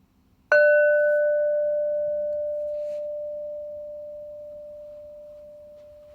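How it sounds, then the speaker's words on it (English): A single struck singing bowl rings out with a clear, pure tone that hangs steadily and fades slowly over several seconds against quiet background hum. "listen carefully to the sound of the bowl and listening as the tone fades"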